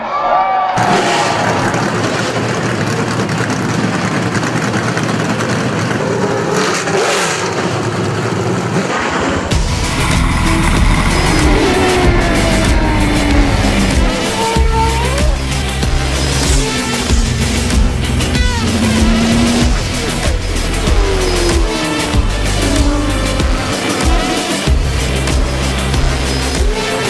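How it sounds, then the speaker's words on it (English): Race car engines fire up and rev loudly at Road America, a dense roar of several motors with rising and falling revs over crowd noise, building sharply after a quieter opening stretch. "Drivers, start your engines!"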